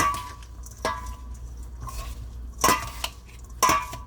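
Chopped galangal and lemon being mixed for duck larb, with a few sharp spoon clinks against the bowl amid softer stirring and scraping, close and clear.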